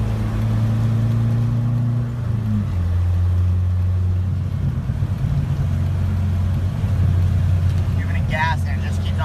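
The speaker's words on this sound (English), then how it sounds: "now my car is bogging out" A Dodge SRT-4 engine idles and revs unevenly, bogging out and sputtering as its ignition coils cut out, with a steady low drone and brief talk near the end.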